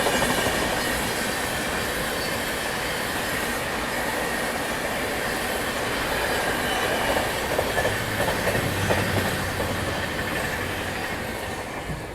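Kakinada Town–Tirupati Express (17250) running on rails near Chinnaganjam station, a steady loud rumble of wheels on track with faint clatter and a brief squeal, continuous throughout with no talk.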